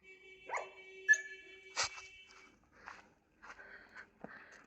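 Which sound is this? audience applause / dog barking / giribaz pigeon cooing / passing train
dog barking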